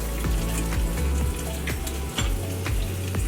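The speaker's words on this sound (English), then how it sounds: "So I'm gonna put a little bit more butter in the pan. So you're going to cook the egg sunny side up." An egg frying sunny side up in butter in a pan, a steady crackling sizzle with bursting pops, close and continuous with no talking.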